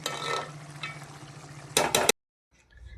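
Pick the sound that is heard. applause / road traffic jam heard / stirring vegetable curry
stirring vegetable curry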